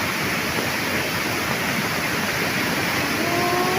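Fast water rushing down from a mountain in Laos, a loud, steady broadband roar of torrential flow over large boulders, close and continuous with no break.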